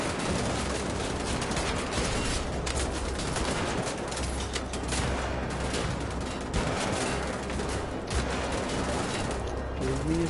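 Gunfire against Nazi soldiers in a Wolfenstein video game, a dense, continuous barrage of rapid shots and impacts that stays loud and close throughout.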